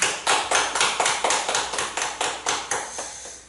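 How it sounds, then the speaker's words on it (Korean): A church congregation claps in unison, giving about fourteen sharp, evenly spaced beats in a brisk steady rhythm, close and loud, with no talk over them. "우리 하나 앞에 영광의 박수 칩니다."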